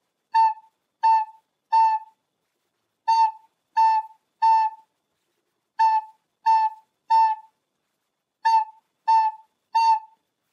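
A recorder plays a single clear note in four measures of three evenly spaced notes, with a silent rest on each fourth beat, bright and close with nothing else heard.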